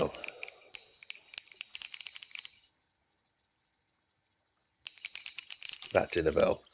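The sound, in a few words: bite alarm bell on sinker rod, Fishing Planet video game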